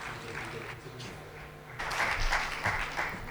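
An audience at a village development event breaks into applause, a dense burst of clapping that swells partway through after quieter murmuring and a voice at the start.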